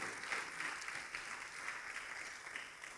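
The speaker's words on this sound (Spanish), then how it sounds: "Dele fuerte esas palmas al Cristo de la gloria" A congregation claps hands during an evangelical church service, a dense, steady wash of many palms held at a low, even level with no pauses for three seconds.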